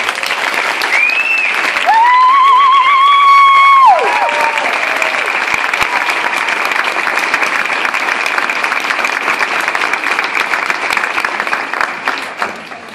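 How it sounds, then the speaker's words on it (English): Memorial gathering crowd giving sustained applause for a late woman's children, a loud, continuous roar of clapping with a few cheers and whoops rising over it early on. "Can we give her children a round of applause?"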